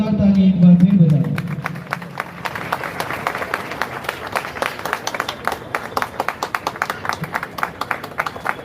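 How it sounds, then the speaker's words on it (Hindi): Applause at a Good Friday prayer service during a peace rally at a church in Karnal: a voice speaks briefly, then a crowd claps steadily with sharp, rhythmic hand claps that continue to the end. "जोरदार तालियां एक बार फिर बजाएं।"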